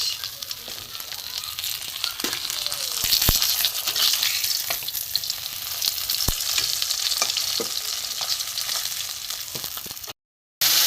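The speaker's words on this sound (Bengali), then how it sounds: "মাছটা ওপিটে ভেজে নিয়েছি" Ganges river fish (dhela) frying in oil, a continuous close sizzle with occasional sharp utensil clinks and stirring scrapes, no talking.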